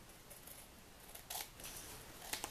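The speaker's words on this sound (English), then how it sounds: "I'm going to turn it over and cut the excess tag away from the decoupage piece" Scissors trimming excess paper tag away from a decoupage piece, a few faint, brief snips with quiet gaps between them.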